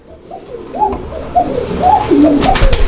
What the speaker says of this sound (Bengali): কোকা ডাকতেছে